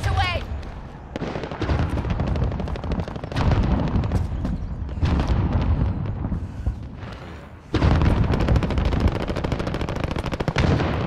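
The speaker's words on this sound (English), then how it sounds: "Rockets away." Rapid gunfire bursts and booming rocket explosions from a Call of Duty Team Deathmatch match fill the whole stretch, loud and dense with repeated blasts, while voice lines speak over the battle.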